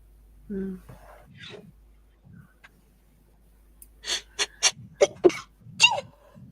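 A sharp sneeze stands out among a few quick, abrupt bursts, with some quiet speech earlier.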